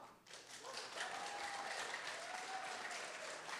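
Audience clapping at a California 13th Congressional District debate swells in after a brief quiet start, then holds as a dense, even round of applause, moderately loud and free of talk.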